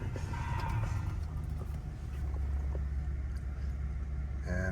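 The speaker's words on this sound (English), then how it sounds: "So it's idling a little high right now." A 2014 Bentley Flying Spur Mulliner idles high after a cold start, a steady low engine rumble heard close up, continuous and even, with no talk.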